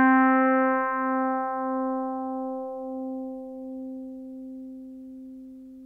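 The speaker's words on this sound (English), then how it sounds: "That's a really nice chorus effect there." A single sustained FM electric piano note from a DX7-style synth rings out and slowly decays, with a gentle wavering chorus shimmer pulsing through its tone.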